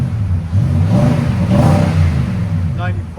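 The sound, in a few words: Nissan Titan Pro-4X 5.6L V8 revving, Borla Pro XS exhaust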